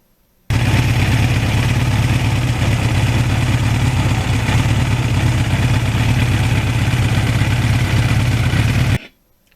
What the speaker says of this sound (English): You just hear the engine.